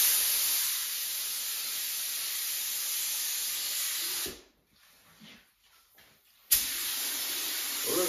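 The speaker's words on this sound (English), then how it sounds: "It'd help if I set my spray gun up, though." A paint spray gun gives a steady, loud hiss for several seconds, breaks off into a short gap of quiet clicks, then resumes abruptly.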